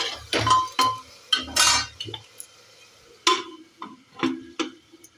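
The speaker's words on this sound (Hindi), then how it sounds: "इधर ये सब्ज़ी चला देती हूँ" Vegetables being stirred in a frying pan in a home kitchen: a series of sharp metallic scrapes and clinks of a spoon against the pan, irregular and close, with quiet gaps between strokes.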